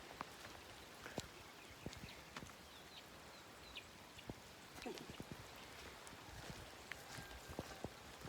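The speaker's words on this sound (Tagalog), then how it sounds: "Grabe sa panahon, wa may balag mo undang ang ulan." Light rain patters down on a wet morning among guava trees, soft scattered drops tapping leaves and surfaces at a low, steady level, with occasional faint sharper ticks throughout.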